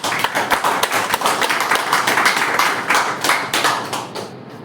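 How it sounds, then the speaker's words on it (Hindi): Audience applause for a speaker at a health consultant event, a dense burst of many hands clapping steadily for several seconds, then thinning out near the end. "तो मैं चाहूँगा कि एक शानदार ताली उनके लिए भी हो।"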